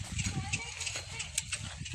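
A pair of bullocks pull a wooden vakhar harrow through a farm field, their hooves clopping softly and unevenly over the soil, faint and close, with people talking over them.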